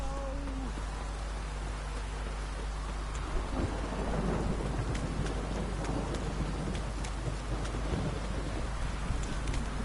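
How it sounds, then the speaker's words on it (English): Heavy rain pours steadily in The Witcher 3 while thunder rumbles and cracks through the downpour, a dense, continuous storm wash that grows rougher and louder about midway. "This downpour's a bastard"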